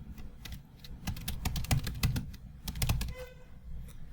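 Keys clatter on a computer keyboard as a folder name is typed, a quick irregular run of close, crisp clicks with short pauses between bursts, no voices.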